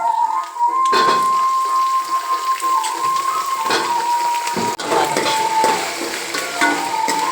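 Vegetables tossed into a hot frying pan with curry leaves and sautéed shallots for a tamarind puli kulambu; a steady close sizzle with stirring scrapes and clatter runs throughout, with no talking.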